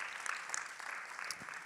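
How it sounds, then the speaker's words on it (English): Applause from a convention audience at a press association gathering, a steady even patter of many hands clapping at moderate distance with no talk over it. "Let's give her another round of applause."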